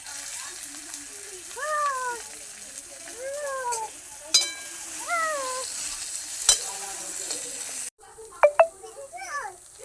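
Boiled potato added to a hot frying pan gives a soft, steady sizzle beneath rising and falling tonal chirps, with a couple of sharp clinks and a brief louder flare near the end.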